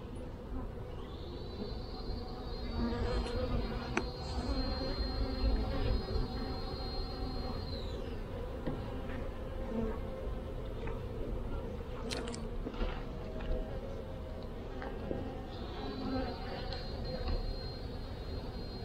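Honeybees drone in a dense, continuous buzz around nucleus hives during an inspection of a swarm hived a week earlier, with occasional individual bees whining closer past the ear.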